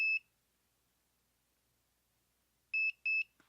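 SnapSafe two-gun keypad vault sounds after its reset button is held: one short electronic beep, a pause, then two quick matching beeps, clean and close in a quiet room.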